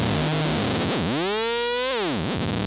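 A Micromac D synthesizer oscillator under external CV modulation gives a loud, distorted, buzzy tone whose pitch swoops up, holds steady, then dips back down.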